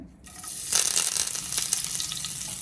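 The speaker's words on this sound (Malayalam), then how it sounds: "ഇതിലേക്ക് നമുക്ക് കറിവേപ്പില ഇട്ട് കൊടുക്കാം എണ്ണ ചൂടായിട്ടുണ്ട്" Curry leaves drop into hot oil for a Kerala-style fish fry, and a sudden crackling burst rises out of near silence. A bright, rattling sizzle follows and holds close and fairly loud.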